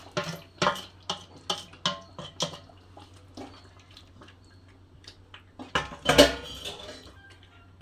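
A spoon gently stirs fried cashew and soft paneer into a curry in a pan, making a run of regular metallic clinks against the pan, then a louder scrape and clatter near the end.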